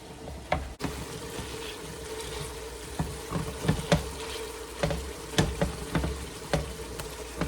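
Ground hamburger meat for homemade chili sizzling in a pan while a utensil breaks it apart, a steady frying hiss broken by repeated scraping and clacking strikes, close and moderately loud with no talk.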